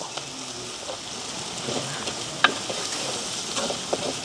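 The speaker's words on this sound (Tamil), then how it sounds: "நாங்கள் இடித்து வச்சுருக்கிற நச்சீரகம், மிளகு, உள்ளி எல்லாத்தையும் இந்த எண்ணெய்க்கே போட போகிறோம்" Crushed fennel, black pepper and garlic sizzle and crackle in hot oil while being stirred, a close, steady frying hiss with occasional sharper pops.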